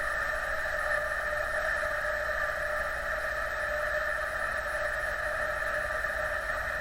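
An electric motor runs at a constant speed while its vibration is measured radially and axially, giving a steady, unchanging tonal hum with a broadband whir beneath it, close and even throughout.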